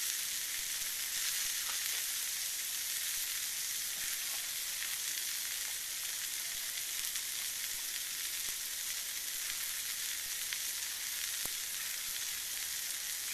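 Steady, even sizzling of burgers frying in a hot pan on a wood gas stove outdoors in woodland, constant crackle throughout with no voices.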